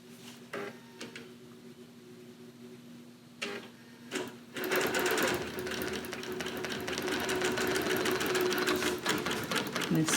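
Bernina Q24 longarm quilting machine stitching along the edge of a quilt: after a few faint starts, a loud, steady, rapid mechanical whir and tick runs continuously and close up for the last half.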